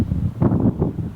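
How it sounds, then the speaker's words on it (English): Wind gusts buffet an outdoor construction site during second-story sheathing work, producing a low, irregular rumble and whoosh in a few surges over about a second. "bit windy."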